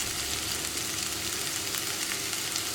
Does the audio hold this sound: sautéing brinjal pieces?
yes